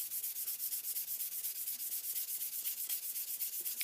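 A pool cue ferrule is sanded by hand with fine 600-grit sandpaper, producing a close, steady hiss of rapid back-and-forth rubbing strokes with a quick, even rhythm and no talking.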